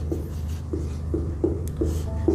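Someone writes out a geometry proof about a locus. About six short scratchy strokes come at a steady rhythm, close and fairly quiet, with no talk.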